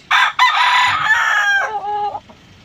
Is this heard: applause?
no